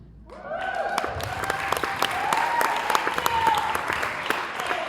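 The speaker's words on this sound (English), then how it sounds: "another round of applause" A crowd breaks into applause that swells and keeps going steadily, a dense patter of many hands clapping, with some voices mixed in.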